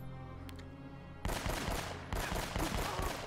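Gunfire in Uncharted 1 erupts suddenly after a quiet stretch: a rapid automatic burst of close, sharp shots, a brief gap, then a second rattling burst continuing to the end.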